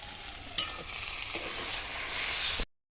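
Taro leaves fry in a pan with a steady, close sizzle, broken by a few scraping stirs of a spatula, before the sound cuts off abruptly.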